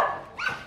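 A dog near its doghouse gives a single short, sharp bark at close range after a brief high whimpering tone, then quiet.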